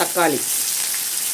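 Onion, green chilli, curry leaves and tomato sautéing in a pan for semiya upma, giving a steady close sizzle throughout, with a brief spoken word near the start.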